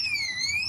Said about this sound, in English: And he just set off the alarm again.